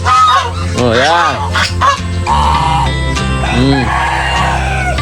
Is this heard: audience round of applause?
no